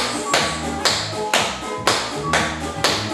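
Tap dancer's shoes strike the floor in forward taps, a crisp steady series of sharp metallic clicks roughly every half second, close and clear during a warm-up exercise.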